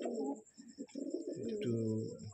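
Pigeons in a pigeon loft give soft, repeated throaty coos close by, overlapping in short phrases against a quiet background.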